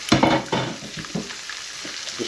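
Mackerel fillets fry skin side down in a pan over medium heat, giving a soft sizzle with a few sharp clatters and scrapes at the start that quickly fade to a quieter crackle.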